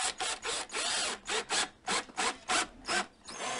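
A power driver runs a self-tapping screw into a metal door shield, giving a series of short, bright whirring and grinding bursts with brief pauses between them. Each burst sounds close and moderately loud, with no voices.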